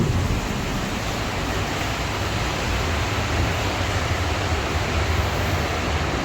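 Dense, steady roar of heavy rain pouring down, loud and unbroken with no voices.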